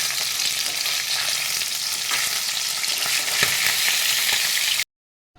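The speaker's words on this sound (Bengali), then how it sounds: "এবার আমি মাছগুলো দেখো লাল লাল করে ভাজা হয়ে গেছে" Pabda fish fries in hot oil until reddish, giving a dense, even hiss of sizzling that runs continuously with no talking. It stops abruptly near the end.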